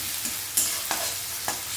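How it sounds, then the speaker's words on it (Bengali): Chopped onion and green chilli frying in hot oil in a pan, a soft steady sizzle with a few sharper stirring scrapes and clinks, close and alone. "তেলের ভেতর দিয়ে দিচ্ছি কুচিয়ে রাখা পেঁয়াজ, কাঁচা লঙ্কা"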